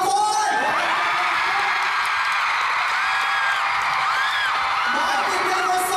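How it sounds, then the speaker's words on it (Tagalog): Concert crowd at a show cheering and whooping loudly and continuously, with high shouts and yells rising over a dense, steady roar from the audience. "Palakpakan at hiyaw ha."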